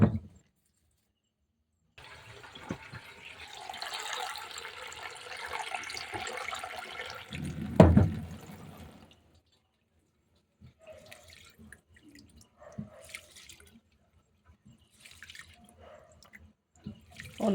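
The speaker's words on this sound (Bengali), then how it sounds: "চাল ডাল ধুয়ে নিলাম" Rice and lentils are washed together in water by hand, with a few seconds of swishing and pouring and a louder splash midway, then quieter scattered drips and clinks after a pause.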